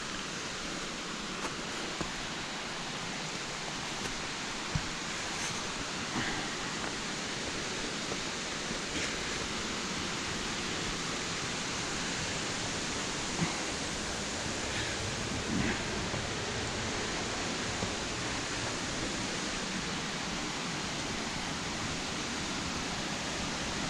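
Water from the old George dam wall pours and spills in a steady broadband rush, close and continuous, with no voices present.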